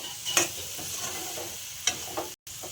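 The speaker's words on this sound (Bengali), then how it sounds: "তো হয়েই গেছে, এখন এটাকে একটু লাড়াচাড়া করবো" A spice mixture stirs and fries in a pan, a steady soft sizzle broken by a few sharp scrapes of the spoon, close and fairly quiet with no talking.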